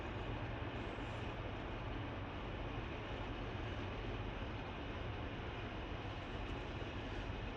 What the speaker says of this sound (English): Didn't get out right away, and another train came.